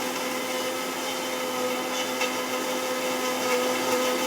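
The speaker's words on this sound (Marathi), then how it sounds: "आता आपण मिक्सरमधून काढून घेतोय" A kitchen mixer grinder whirs steadily while grinding black masala spices for a chicken recipe, a loud, continuous motor drone with an even tone throughout.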